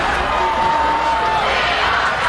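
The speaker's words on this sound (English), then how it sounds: "And you can hear the chants of "We Are Massey,"" A high school football crowd in the stands at a Clinton-Massie versus Wilmington game, a loud mass of voices chanting together over a steady crowd roar, with a sustained tone running through the middle.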